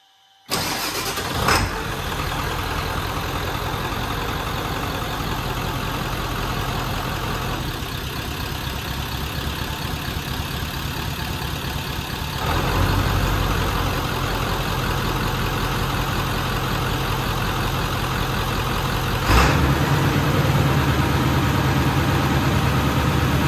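A 7.3 diesel engine with a whisper mode tune, recorded from outside the vehicle, cranks and fires near the start, then settles into a steady, loud idle with a couple of small shifts in tone.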